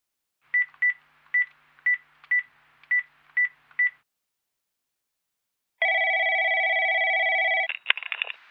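Touch-tone keypad dialing: eight evenly spaced beeps in quick rhythm, a pause of silence, then a long steady telephone tone followed by a brief crackle, clear and close with no voices.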